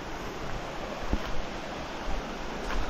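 River water flowing steadily where children are bathing on a hot day, a continuous broadband rush with a soft thump around the middle, no talk.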